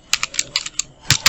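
Computer keyboard typing while a visiting card design is laid out, about ten sharp, irregularly spaced key clicks, close and crisp over a quiet background.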